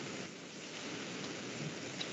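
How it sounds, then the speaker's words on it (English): Steady rain hisses with a low thunder rumble in a Minecraft game world using the Orespawn mod, a continuous soft even wash, faint overall. "It's raining."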